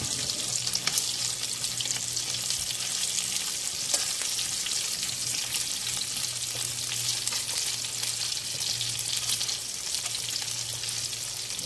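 Vegetables for pakbet frying and splattering in a pan, a loud, continuous close-up sizzle with crackling pops throughout and no speech.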